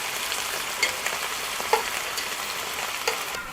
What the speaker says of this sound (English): give them a flip, put them on the other side, and give them a sear on the other side